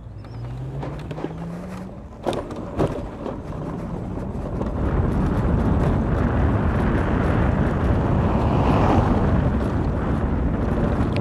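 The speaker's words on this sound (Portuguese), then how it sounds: "Eu tô andando aqui no paralelepípedo agora, e assim, ela faz barulhos de plástico." Electric scooter, a Voltz EV1 Sport, riding over cobblestones, giving a continuous rumbling road roar that swells and stays loud, with a few sharp rattling knocks early on from loose plastic parts.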